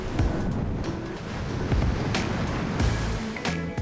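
Steady roar of ocean swell and strong wind buffeting the microphone while kitesurfing solo between volcanic islands in Cape Verde, broadband and continuous with occasional gusty surges, no voices.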